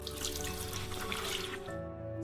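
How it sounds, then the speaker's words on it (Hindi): Water from a tap runs steadily as two shiny steel plates are rinsed at a sink, a continuous close splashing that cuts off sharply near the end. "मास्टर साहब ने स्टील की 2 चमचमाती थालियां पानी से"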